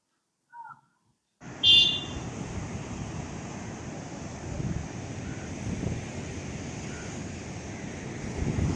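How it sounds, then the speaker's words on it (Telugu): Ocean surf washes steadily at an early-morning beach in Pondicherry, mixed with wind noise on the microphone, after a brief bird call and a short beep at the start. "ఎర్లీ మార్నింగ్ బీచ్ చాలా అందంగా ఉంది ప్రశాంతంగా ఉంది"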